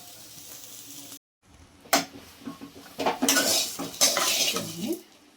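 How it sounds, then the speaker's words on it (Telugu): Bitter gourd fry is scooped from a pan into a bowl with clinking spoon and metal scrapes, a short silence early on, then bursts of clattering utensil contact and a faint lingering sizzle. "సర్వ్ చేసుకున్నాం మనం బౌల్లోకి అయితే"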